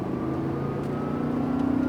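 A Lamborghini Gallardo LP560-4 on a racing circuit, its engine held under steady throttle with a sustained droning note that rises slightly, heard continuously from inside the car with no talking.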